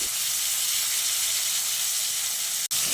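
Pieces of pointed gourd fry in hot oil with a loud, even hiss and sizzle held close throughout, broken only by one brief sharp click near the end.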